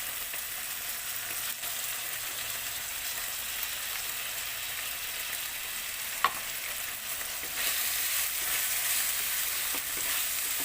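Onion with ginger garlic paste sautés in a pan for a paneer vegetable stir fry, producing a soft, even sizzle at moderate level. A single sharp utensil tap lands midway, and the hiss grows slightly brighter toward the end.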